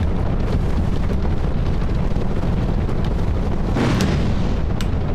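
In Dark Souls 2, a loud continuous rumble of explosions churns on, with sharper cracking bursts standing out near the end over the heavy low roar.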